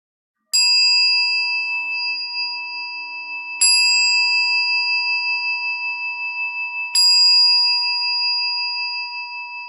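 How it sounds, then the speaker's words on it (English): A meditation bell is struck three times at even intervals, each clear metallic ring sounding bright and close, then sustaining and slowly fading before the next strike in an otherwise silent room. "I'm going to ring now the meditation bell, and we will begin the actual meditation experience. It is also 3 bells."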